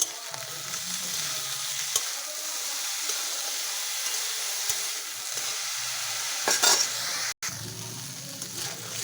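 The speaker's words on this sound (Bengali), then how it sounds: "অল্প একটু হলুদ নুন দিয়ে এটা ভেজে নিচ্ছি" Eggplant frying in oil in a kadai, seasoned with turmeric and salt, gives a steady, close sizzle with a few brief scrapes and stirring knocks partway through.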